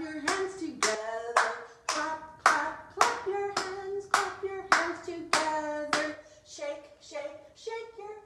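Children and adults clap along to a Clap Your Hands song at a music class for toddlers, about a dozen sharp claps in a steady rhythm over a sung melody, close and fairly loud.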